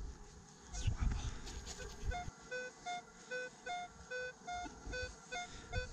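Regular electronic beeps from a metal detector signalling a target in a field during coin hunting, about eight short evenly spaced tones repeating steadily after a burst of rustling and handling noise.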